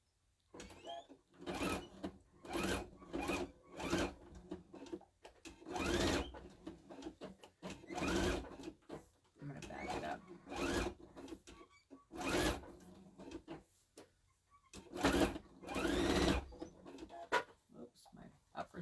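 A home sewing machine stitching vinyl for a drawstring bag, set to a longer stitch, running in repeated short bursts with pauses between, close and fairly loud, while someone talks in the gaps.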